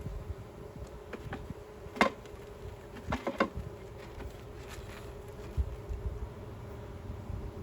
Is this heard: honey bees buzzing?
yes